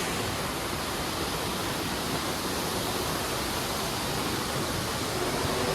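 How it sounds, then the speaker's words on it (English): A waterfall near Pakse in southern Laos roars in a loud, dense, unbroken wash of falling water, close by and without any voices. "And the waterfall is here."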